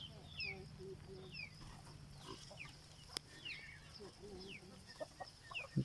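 Farm chickens cluck and chirp intermittently around a morning vegetable plot, mixed with other livestock noises and a steady low hum, all fairly faint and scattered.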